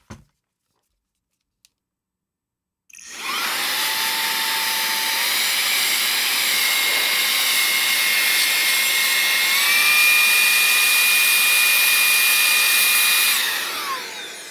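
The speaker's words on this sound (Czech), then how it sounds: "Teď z toho mám mocnej fukár." A handheld 2-in-1 vacuum cleaner with a blower attachment starts up after brief silence and runs as a loud, steady, high-pitched whine, its tone shifting slightly partway through before winding down at the end.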